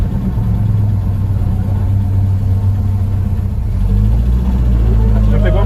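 BMW 320i E21 with a MoTeC M4 engine management setup, its engine holding a steady rumbling idle-like speed after the throttle is released, loud and continuous with no gaps.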